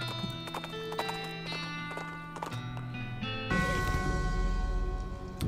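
Horse hooves clip-clopping away at a steady trot in the video game West of Loathing, a rhythmic run of hoofbeats over a bright music track, with no talking.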